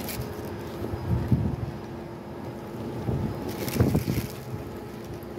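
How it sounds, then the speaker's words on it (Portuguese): Gusty outdoor wind in Orlando buffets the microphone in rising and falling surges, loudest around the middle and near the end, with no clear talk. "Ai, peraí, tá ventando demais."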